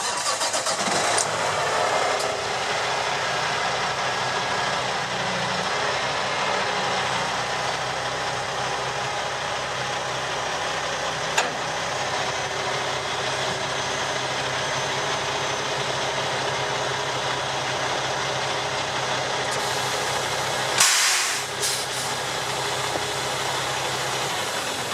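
A semi truck's diesel engine starts, then idles steadily and loudly while the trailer is being unhooked, with a brief sharper burst near the end and no talking.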